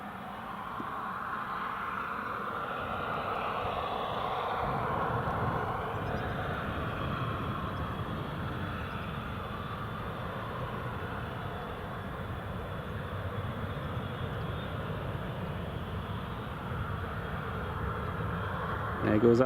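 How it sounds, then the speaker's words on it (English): Business jet taking off at Newcastle Airport, a steady broadband engine roar heard from a distance that holds throughout and swells slightly at the end, with some talk over it. "There goes that bizjet."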